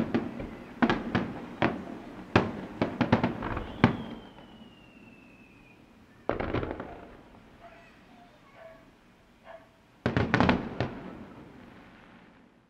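Summer fireworks watched from an apartment window: clusters of sharp bursts and crackling pops at a middle distance, with a quieter lull and a faint whistle before a final burst of explosions.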